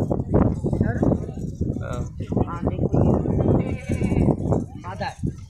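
Gulabi goats bleat repeatedly at a livestock market in Tando Adam, with several short calls from an adult goat and kid mixed with nearby talking and general market clatter.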